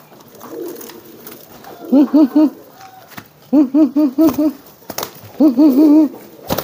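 Kolong pigeons coo in three close, loud bursts of rhythmic, throaty calls, separated by short pauses with quiet background noise between them.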